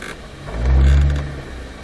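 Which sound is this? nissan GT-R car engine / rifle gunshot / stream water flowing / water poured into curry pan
nissan GT-R car engine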